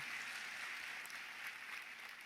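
Faint applause from a church worship crowd, a steady wash of clapping heard from a distance for a couple of seconds.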